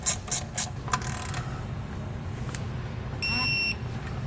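Bolts on a Kodiak disc brake kit being snugged with a ratchet, a few sharp clicks at the start, then a steady mechanical hum and a short electronic beep near the end.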